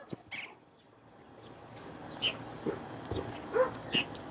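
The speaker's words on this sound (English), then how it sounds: "Sorry, you can hear our neighbor dog." A neighbor's dog in a Texas home setting whimpers and yips faintly in short, scattered bursts from a distance, over low background hum.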